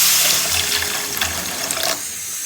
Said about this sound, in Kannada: ಇವಾಗ ಸ್ವಲ್ಪ ನಾನು ನೀರು ಹಾಕತ್ತಿದ್ದೀನಿ.